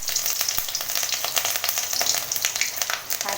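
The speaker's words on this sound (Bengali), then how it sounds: "এখানে 5 ফোড়ন দিয়ে দিলাম। আর এই যে কেটে রাখা লঙ্কাগুলো ফোড়ন দিয়ে দিলাম।" Five-spice seeds (panch phoron) and cut chilies hit hot oil for a Bengali vegetable dish, producing a close, continuous sizzle peppered with sharp crackles and spits.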